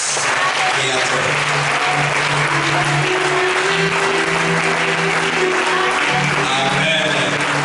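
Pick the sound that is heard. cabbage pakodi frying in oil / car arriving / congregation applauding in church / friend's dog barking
congregation applauding in church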